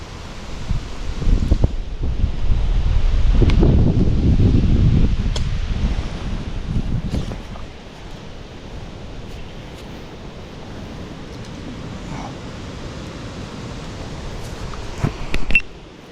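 Strong wind roars and buffets loudly for several seconds while spin fishing, then eases into a steadier, softer rush with occasional gusts and clatters.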